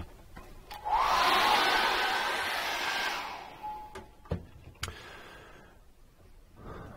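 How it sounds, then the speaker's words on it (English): A handheld hairdryer blowing to dry acrylic paint on a seascape painting, a steady loud whoosh for about three seconds that then trails off, followed by a few sharp taps and clicks. "Now I'm going to dry that off with a hairdryer."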